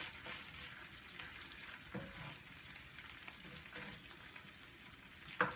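Chicken browns in a pan, a soft steady sizzle broken by a few scraping stirs and light clatter, faint and close, without speech.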